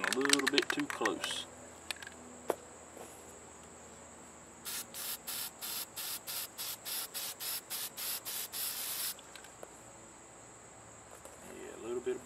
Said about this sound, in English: I'm spraying a little bit too close